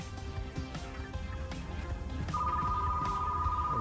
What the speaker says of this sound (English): And the phone is ringing again.